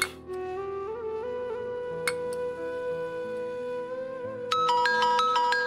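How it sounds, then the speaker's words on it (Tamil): A mobile phone ringtone plays a bright, repeating electronic melody at moderate volume, with a few clinks and ticks early on and a louder, busier chiming pattern near the end. "உங்க போன் தான் அடிக்குது"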